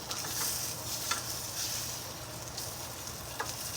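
Franks sizzling and frying steadily in a pan, a continuous close hiss with faint crackles and a few brief pops, no talking.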